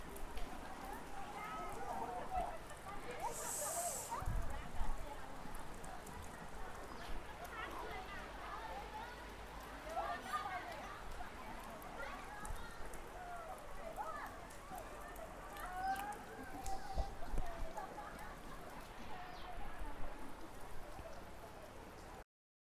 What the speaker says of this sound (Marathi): यावेळेस मस्त असा पाऊस पडतोय.